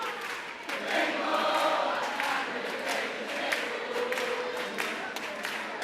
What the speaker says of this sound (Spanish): Se escuchan aplausos